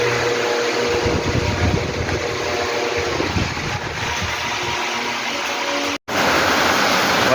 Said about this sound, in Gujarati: વરસાદ ચાલુ થઈ ગયો છે આજે